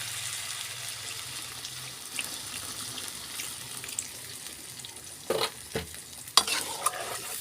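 Bottle gourd and potatoes being stirred in a pan, with soft scraping and light sizzling throughout and a few sharper utensil knocks near the end, no voices.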